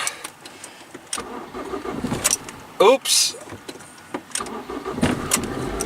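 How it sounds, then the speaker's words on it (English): A car starts up after some jangling keys and cabin handling noises. A short, loud cranking burst comes midway, followed by further clicks, and a voice briefly exclaims. "I'm just going to start up the car here"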